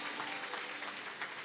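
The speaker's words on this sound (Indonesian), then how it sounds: "kasih tepuk tangan untuk Tuhan Yesus terlebih dahulu" Applause from a church congregation filling a packed worship hall, a dense steady patter of many hands clapping together throughout, fairly loud and without talk.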